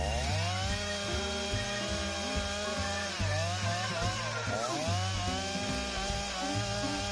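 A chainsaw freehand milling lumber, making shallow cuts along a marked line, runs steadily and loudly with the engine note dipping and rising under load, with no talk.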